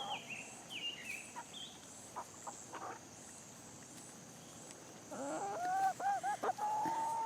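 Chickens on a farm give short clucks and chirps at a moderate distance over steady outdoor background noise, then a louder run of warbling, rising calls in the last couple of seconds.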